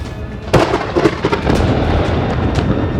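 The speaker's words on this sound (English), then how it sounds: "Thunder is known for sound." Thunder rumbling through a stormy sky, with a sharp loud crack near the half-second mark followed by a sustained, rolling broadband roar that stays heavy and continuous to the end.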